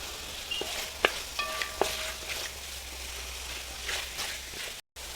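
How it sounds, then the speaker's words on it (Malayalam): Chicken masala sautéing in oil for chicken mappas gives a steady, close sizzle throughout, with a few sharp utensil clinks near the start and no talking. "ഒരു 5 മിനിറ്റ് എണ്ണയിൽ മസാലയിലൊന്ന് ഇങ്ങനെ വഴറ്റിയെടുക്കുക."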